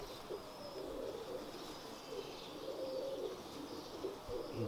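Red eye pigeons coo in soft, low, rolling calls that repeat through the stretch, with a faint chirp mixed in over a quiet room background.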